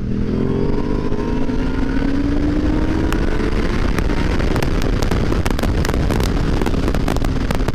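A big-engined KTM motorcycle accelerates hard, its engine note climbing steadily under heavy wind rush, with sharp crackles scattered throughout.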